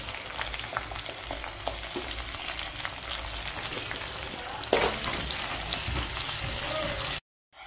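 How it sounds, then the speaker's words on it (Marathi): Chopped onion hits hot oil already seasoned with cumin and curry leaves, crackling and sizzling steadily for several seconds with a brief louder burst midway before cutting off. "चांगला तळल्यानंतर कांदा टाकून घ्यायचा, एक चिरलेला मस्त कांदा,"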